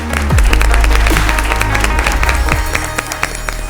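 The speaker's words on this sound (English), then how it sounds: "let's give Aritri a big round of applause" Loud, sustained applause from a studio audience for a contestant on a televised school spelling bee, a dense wash of many hands clapping at once that stays steady from start to finish.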